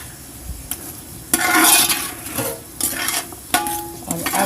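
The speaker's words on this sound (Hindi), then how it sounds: "और अब मैं इस मसाले को इसके साथ टमाटो के साथ भूनूंगी ताकि इनका पानी अच्छी तरह से निकल जाए" Tomato masala being fried and stirred in a pot for biryani: a loud steady sizzle with repeated scraping stir strokes, close up, no talking.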